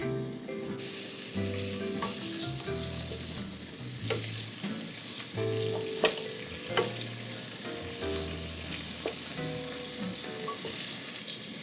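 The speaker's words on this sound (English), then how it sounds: "you're just gonna wanna coat these in oil and then they're gonna stir fry for about 5 minutes" Carrots and potatoes sizzle steadily as they stir-fry in hot oil while a utensil stirs and scrapes the pan, with occasional sharp clinks and a low background hum.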